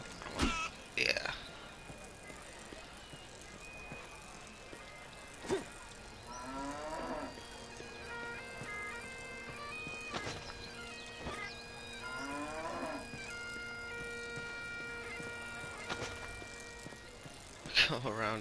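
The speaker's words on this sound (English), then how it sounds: "Go around tipping over all the cows." Cows mooing in The Bard's Tale video game, several drawn-out lowing calls repeated across the stretch, fairly close and clear, with other game sounds and a couple of sharp thumps around them.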